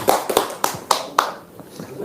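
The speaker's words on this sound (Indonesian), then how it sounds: "Tepuk tangan dong, Bos" Five or so sharp, separate hand claps come in quick succession over a voice, then fade into quieter room noise.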